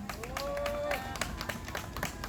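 Scattered applause from a small group at an outdoor press conference held by women farmers' associations, irregular claps over a steady din, with speech and a voice rising briefly above it.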